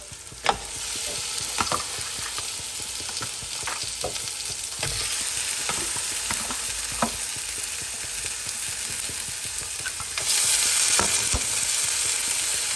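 Lamb shank fries in a pan with ginger, garlic and chili paste, giving a continuous close sizzle broken by repeated clinks and scrapes of stirring and getting slightly louder near the end.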